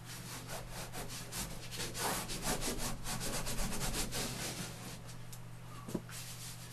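Chalk scrapes across a drawing surface while rock shapes are sketched, a soft repeated rubbing and scratching in quick strokes under a low steady background hum, with a small knock near the end.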